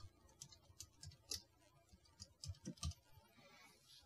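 Someone types a full name on a computer keyboard while registering software, with soft, quiet key clicks in short irregular bursts and no talking.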